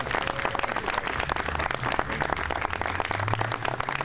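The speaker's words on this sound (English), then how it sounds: "let's give them a round of applause for their work" At a gun violence prevention grant press conference, a room of people claps steadily: a dense, even patter of applause at moderate volume that lasts the whole stretch.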